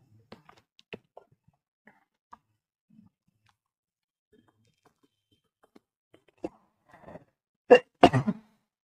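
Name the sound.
coughing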